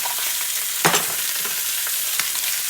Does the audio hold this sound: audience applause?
no